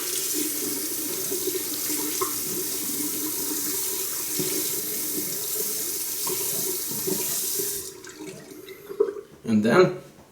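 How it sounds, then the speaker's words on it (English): Steady running tap water streams loudly over a straight razor being rinsed under a faucet, then cuts off and gives way to a few brief splashes and drips near the end. "What I do is thoroughly rinse it off."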